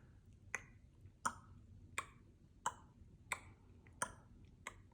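A clock ticks faintly and steadily: seven crisp, evenly spaced clicks over a quiet background.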